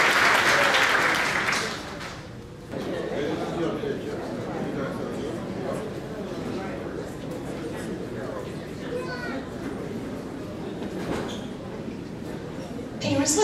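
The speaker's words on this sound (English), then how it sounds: "So let's give her a big round of applause." Applause from a kindergarten graduation audience for a retiring teacher after 35 years of service, a dense steady clapping that carries on for most of the stretch, with crowd chatter and voices mixed in beneath it.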